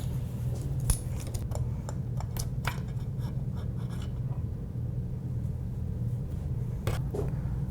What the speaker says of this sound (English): So we can start to remove the clutch cover now.